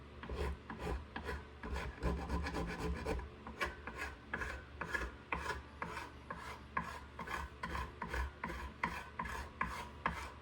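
A hand file rasps against metal on a cigar box guitar, loud close repeated strokes in an uneven back-and-forth rhythm, with no talk over them.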